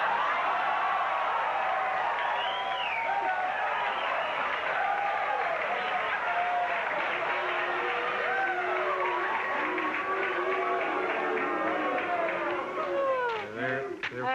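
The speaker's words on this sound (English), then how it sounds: "they're just chanting, Cher, Cher." Studio audience on a late-night talk show chanting a name in unison, a loud rolling crowd roar with cheering and applause that fills the room, voices rising and falling together throughout.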